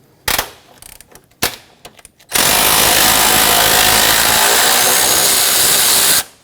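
A tool breaks loose the 12mm bolt on the battery hold-down bracket of a 2006-2010 Hyundai Sonata, with a few sharp taps first and then a loud, continuous rattling burst of about four seconds, very close up.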